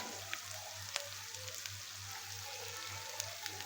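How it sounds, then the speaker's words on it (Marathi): Potato chutney sautéing in a pan, a steady soft sizzle and crackle with a low hum beneath and occasional faint ticks, fairly quiet and close, no voices. "हे परतून झाल्यानंतर चांगलं 2 मिनिटं परतून घ्यायचं."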